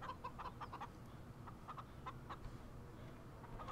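Chickens clucking in the Farming Simulator 17 video game, a faint, quick string of short clucks that comes in irregular bursts over a low background hum.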